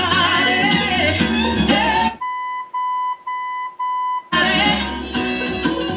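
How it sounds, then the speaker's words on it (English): A 1985-87 Chevrolet truck AM/FM radio gives four short, clean electronic beeps at an even pace in a brief quiet gap, with loud sound from the set playing before and after. "It's going to beep."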